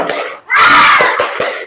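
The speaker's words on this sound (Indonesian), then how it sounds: "Kita tepuk semangat dulu ya." Participants in a teacher-training session at UIN Walisongo do a rhythmic spirit clap: a loud group shout bursts in, then a few evenly spaced sharp claps follow at close range.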